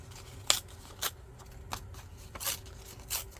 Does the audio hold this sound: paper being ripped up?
yes